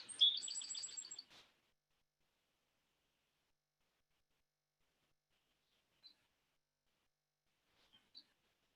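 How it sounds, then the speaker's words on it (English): A small bird chirps and trills rapidly for about a second, then falls silent. A few faint, isolated tweets follow much later against near silence. "hearing the bird song, birds singing in our heart of hearts"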